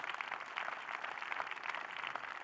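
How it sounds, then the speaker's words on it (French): Audience applause at a debate event, a steady, fairly distant wash of many hands clapping that holds evenly for a couple of seconds. "Merci de les applaudir."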